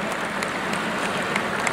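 A crowd applauding at a BJP state working committee gathering in Rajasthan: a dense, even wash of many hands clapping, sustained and fairly loud throughout.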